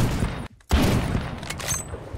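Loud, booming gunfire from a BFG-50 sniper rifle in the Phantom Forces shooter game, with dense battle noise broken by a brief silent gap before the shots resume.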